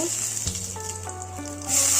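Bay leaf dropped into hot mustard oil in a kadai, giving a steady close sizzle with a brief crackle, over a low stove hum and no talk.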